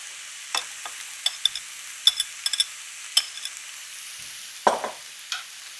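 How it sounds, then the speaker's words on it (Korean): Shiitake mushrooms and carrots stir-frying in a pan with sesame oil: quiet sparse sizzle with a handful of sharp utensil clicks and scrapes spread through, one stronger scrape near the end, no talk. "표고버섯이 익을 때쯤 되면 여기다가 당근을 넣고 볶아줍니다."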